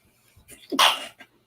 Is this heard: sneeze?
yes